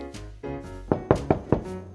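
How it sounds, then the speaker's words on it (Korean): Knocking on a door in a narrated children's fable as a crane arrives at a fox's birthday party: four sharp, close knocks in a quick uneven rhythm over soft background music. "두루미가 문을 똑똑 두드리자 여우가 문을 열었어요"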